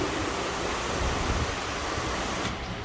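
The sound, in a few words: rinsing a car with water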